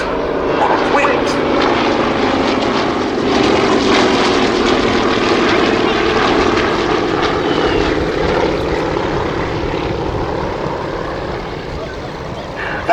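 A Yakovlev Yak-52 propeller aircraft drones steadily overhead at a Battle of Britain air show, a loud continuous engine roar with a voice talking over it throughout.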